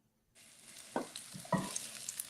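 Salmon fillets sizzle in a frying pan, a steady close hiss after a quiet start, with a couple of louder clanks and scrapes of a utensil against the pan partway through.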